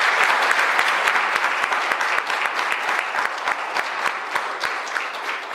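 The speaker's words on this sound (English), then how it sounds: "How about a round of applause for all those kids?" Audience applause for children after their summer camp play, a steady, dense wash of many hands clapping close by, sustained and even throughout with no voices over it.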